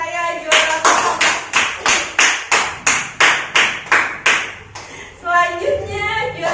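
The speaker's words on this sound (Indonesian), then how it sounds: "Oke, beri aplaus untuk Raya juara pertama." A classroom applauds a first-place winner, with about a dozen sharp, evenly spaced bursts of clapping rising and fading in rhythm before tailing off under a voice.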